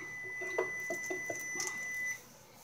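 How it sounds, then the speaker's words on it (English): A kitchen timer sounds while French fries are being fried in bacon grease, giving a faint steady electronic tone with a few soft chirps over a low, continuous background for about two seconds before it cuts off. "That's my timer for it."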